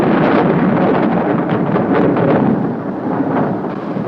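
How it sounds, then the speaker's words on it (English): Thunder from an approaching storm rolls as a loud, continuous low rumble with no breaks, swelling slightly and then easing off a little toward the end. "Well, the storm's definitely on its way now, Jim."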